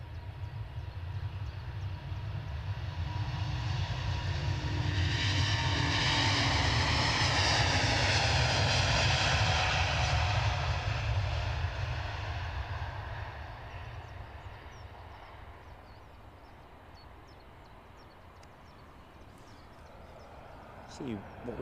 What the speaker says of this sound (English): I'm going to show you the Hainan's arrival next